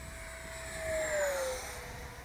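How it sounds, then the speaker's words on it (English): A FreeWing Stinger 90 RC jet fitted with a 10S electric ducted fan makes a full-throttle pass, a steady whooshing roar with a whining tone that swells and falls as it goes by at a moderate distance, with no talk. "Go ahead and do a full throttle run here."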